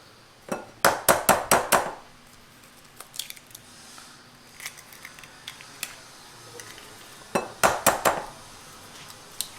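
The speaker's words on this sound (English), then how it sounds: "we're going to actually break 2 eggs into this" Two eggs are cracked into a bowl for keto dumpling dough, each heard as a quick cluster of sharp taps and cracks against the rim, followed by softer scattered clicks and a second tapping burst near the end.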